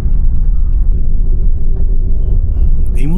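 A Wagon R car climbing a cloud-covered mountain road near Sandakphu and Kurseong, heard from inside as a loud, steady low engine and road rumble throughout, with a faint bit of talking near the end.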